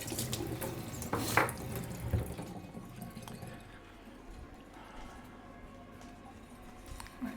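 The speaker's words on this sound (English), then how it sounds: "So I just had to rinse it real quick." A microwavable plate with leftover crumbs is rinsed under a running kitchen tap: a burst of splashing water and clattering early on, then a quieter steady trickle until the end.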